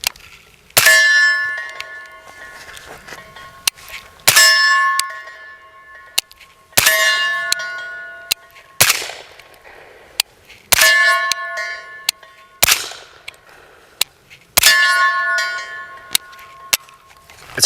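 Gunshots ringing off a steel target during shooting drills, each sharp crack followed by a bright metallic clang that decays slowly, repeating at irregular intervals roughly every two seconds, with faint extra pings between strikes.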